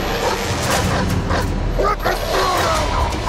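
A dog in the Mad Max video game barks and yelps in short bursts over mechanical game sounds, with a few whimpers mixed in.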